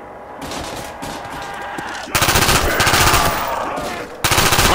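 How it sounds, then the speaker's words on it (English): Submachine gun firing in short controlled bursts in Call of Duty Black Ops Zombies, a 2010 video game, loud rapid cracking volleys that grow denser and louder midway, with steady game background noise. "SMG, recommended use, short controlled bursts to elicit maximum damage."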